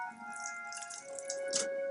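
In a video game, water pours into a box with soft dripping splashes over a steady tonal background hum, close and fairly quiet.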